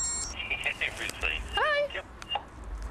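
A mobile phone rings inside a police traffic car, giving a warbling electronic tone with a rising chirp, close but not very loud, over steady background hum and some faint voice.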